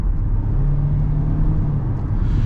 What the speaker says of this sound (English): You do hear the engine.